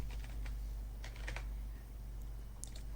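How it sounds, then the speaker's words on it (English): Steady keystrokes on a computer keyboard while entering data into ship chandling software, a quick irregular patter of close, soft clicks in short bursts over a low hum. "I am typing new ABC 123"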